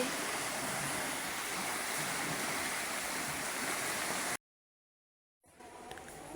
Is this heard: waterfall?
yes